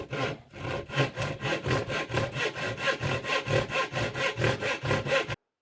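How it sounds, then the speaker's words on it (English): A stop dado is cut by hand in wood for a tool cabinet shelf, with a close, steady rhythm of about twenty regular saw strokes, each a rasping rub, stopping abruptly near the end. "cut a dado back in here, a stop dado, and notch the front"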